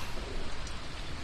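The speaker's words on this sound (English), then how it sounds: "I hear wind, rain, and get off me!" Steady rain falls against a windy backdrop, a continuous fairly quiet wash of noise with no speech over it.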